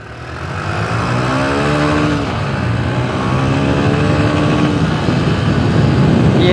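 A Suzuki GR 150 and a Yamaha YBR 125 motorcycle roar close by in a drag race, their engines revving hard with rising, overlapping pitches that stay loud throughout without talking.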